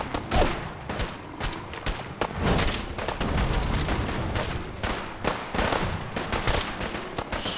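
Dense gunfire in the video game Fallout 4 Far Harbor, rapid overlapping shots and bursts of automatic fire sustained throughout, loud and close with a chaotic battle mix.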